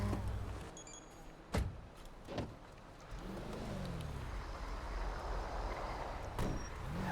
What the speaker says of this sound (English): That is a fast fucking car.